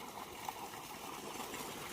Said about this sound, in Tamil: தண்ணி பாருங்கள் எவ்வளோ ஃபோர்ஸாக வருதுன்னு